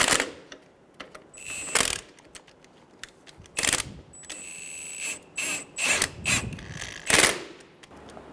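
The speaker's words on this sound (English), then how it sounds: "Snug the nuts down." A ratchet snugs down the nuts on an engine mount bushing of a 2000–2007 Ford Focus 2.0L four-cylinder. It clicks in short, sharp bursts with pauses between them, close and fairly quiet, along with small metallic clinks.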